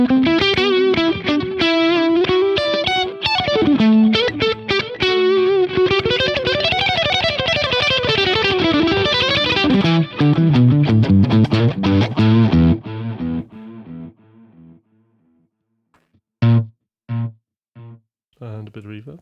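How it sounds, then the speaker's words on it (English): Electric guitar played through a dirty, distorted effects preset, loud and continuous with chordal strums and sustained notes, then trailing off into a few short, choppy bursts near the end. "It's got the usual dirty, clean sound."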